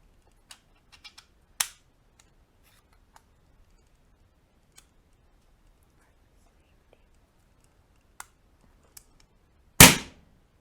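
A moderated airgun firing once, a single sharp muffled crack near the end after a long hush broken by scattered small clicks and handling ticks.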